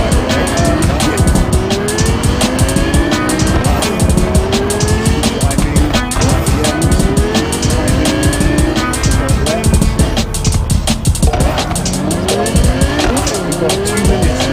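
Cars roar and screech through the streets of Cyberpunk 2077 Phantom Liberty, engines revving loudly with repeated tire squeals and skids over a dense, continuous mix of game sound.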